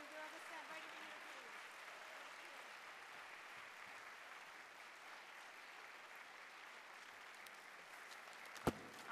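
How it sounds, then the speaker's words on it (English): Faint, distant applause from an audience at a ceremony honoring student essay winners, a steady soft patter lasting throughout with a brief sharp knock near the end. "Ladies and gentlemen, I'd like you to give a big round of applause for our CABE writers."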